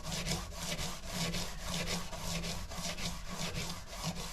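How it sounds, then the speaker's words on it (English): Guitar frets are polished with white polishing compound, a close, steady back-and-forth rubbing with a rhythmic scrubbing stroke roughly twice a second, heard alone without talk. "Now I'm going to take the white and I'm going to polish it."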